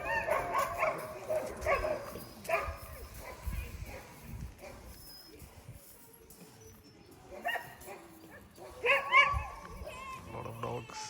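Many sled dogs bark, yip and whine excitedly at a distance at a sled dog demonstration in Denali National Park, Alaska, with a person talking over the noise now and then.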